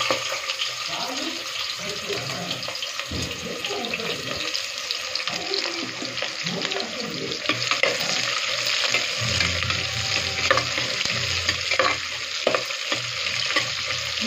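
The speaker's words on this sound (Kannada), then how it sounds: "ಆ ಈರುಳ್ಳಿನ ಇದಕ್ಕೆ ಸೇರಿಸ್ತಾ ಇದ್ದೀನಿ." Chopped onions fry with a steady sizzle in a pan for chicken biryani, stirred continuously, with watery hiss and scraping that persist over the whole stretch at a close, even level.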